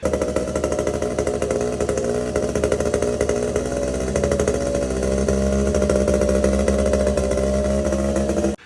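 A 53-year-old mini bike engine runs smoky, with crank seals suspected of leaking oil, giving a loud, continuous buzzing drone that holds steady for about eight seconds before cutting off, with no voices.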